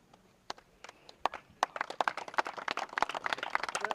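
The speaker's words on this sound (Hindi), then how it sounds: "तालियां होनी चाहिए, लोग बहुत है लेकिन तालियां कम है." Audience clapping at a prize-giving ceremony for a customs sports cup in Ratnagiri: scattered claps that build into denser, fairly sparse applause, moderately loud with no talk over it.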